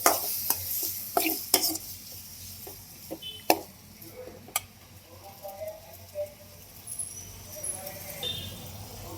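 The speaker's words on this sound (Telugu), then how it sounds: "క్లీన్గా శుభ్రం చేసుకున్న రొయ్యలు అయితే వేసేసుకుందాం ఆయిల్లోకి" Cleaned prawns frying in hot oil while making a prawn gravy curry, a low sizzle broken by sharp clinks and scrapes of a spoon against the pan, fading into a gentle bubbling crackle.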